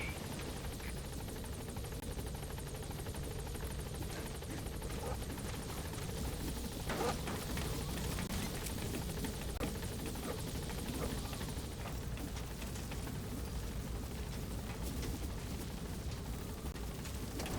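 B-Quad helicopter from the game Metal Gear Solid V arriving at a landing zone: a steady, loud rotor-and-engine roar that holds throughout, swelling slightly midway with a few sharp thuds.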